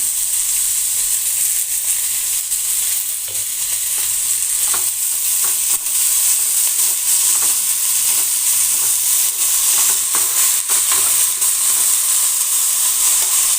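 Azolla frying with curry leaves in a pan, a loud, steady hiss and crackle of hot oil, broken by occasional stirring clicks, with no break in the sizzle.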